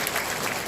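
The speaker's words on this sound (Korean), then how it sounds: "우리 성도단을 향해서 박수 한번 부탁드리겠습니다." Dense applause from a congregation fills a large room, steady and unbroken throughout the short moment.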